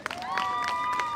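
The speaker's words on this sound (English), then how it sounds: "can we give Ash a big round of applause?" A street show crowd in Covent Garden, London, applauds for about a second while a sustained rising whistle-like tone rings over the clapping.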